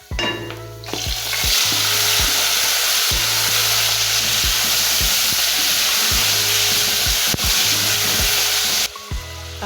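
Tomatoes, carrots, courgettes and eggplants frying in a pan for a stir-fried vegetable stew, a loud continuous sizzle with regular scraping stirring strokes close by, and no voices.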